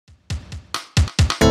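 A cheap computer plays choppy, distorted music that bursts out in short, harsh fragments with abrupt gaps, sounding broken and crackly.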